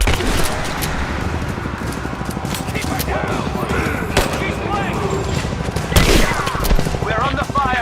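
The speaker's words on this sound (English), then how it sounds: "We're under fire at the edge of the village." Rapid bursts of automatic gunfire crackle through a firefight in Rise of the Tomb Raider, dense and continuous over several seconds, with voices shouting over the shooting.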